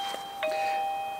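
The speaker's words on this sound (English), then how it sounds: "so that's the doorbell there." A two-tone ding-dong from the chime of an XTU J9Plus wireless video doorbell, heard once, clear and close, sustained ringing fading slowly.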